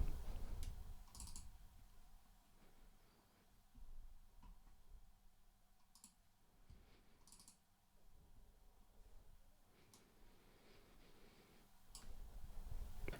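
Light computer clicks in a quiet room, a few sharp isolated ticks scattered across the stretch, some close together like double-clicks on a mouse while browsing software patches, with soft keyboard-like tapping and faint background hum.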